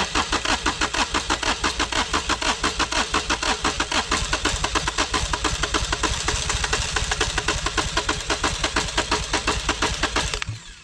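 A runaway diesel engine cranks and then runs hard and loud, with a fast, even pulsing beat that holds for about ten seconds before cutting off abruptly at the end.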